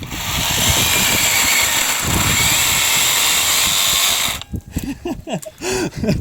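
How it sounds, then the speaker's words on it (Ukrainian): A LEADER cordless reciprocating saw cuts through garden debris with a loud, steady buzzing drone for about four seconds, then stops, leaving brief laughter and talk. "І починаємо весь ось цей срач пиляти."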